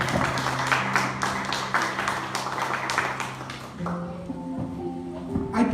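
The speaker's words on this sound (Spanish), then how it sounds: "Denle un aplauso así." A crowd at a Spanish-language sermon breaks into quick, dense clapping over sustained keyboard chords, the applause stopping after a few seconds while the music carries on alone.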